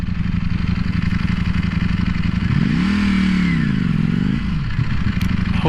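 A 2019 Ducati Panigale V4 being ridden, its steady engine drone rising into a swelling rev midway and then settling back, close and loud with wind noise and no voices.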